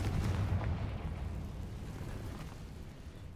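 A Confringo blasting spell explodes in Hogwarts Legacy, a dense, rumbling boom that fills the low end and slowly fades over a few seconds.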